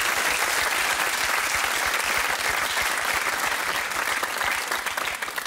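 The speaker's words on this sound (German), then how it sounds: "Ein Applaus für die Performance." Sustained, dense audience applause fills a German satirical TV comedy studio after a performance, loud and steady throughout with no talk over it, easing slightly near the end.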